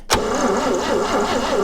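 A 1960 Chevrolet step van cranks over with a loud, steady starter churn that begins abruptly and continues throughout, the engine turning without catching.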